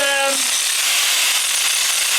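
An angle grinder strips plating from a high-carbon steel axle, producing a harsh, loud, continuous hissing grind right up close, preceded by a brief metallic ring at the start.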